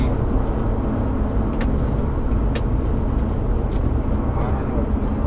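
Steady road noise of a car driving along, a continuous broadband rumble that stays loud and even throughout, with occasional faint high ticks over it.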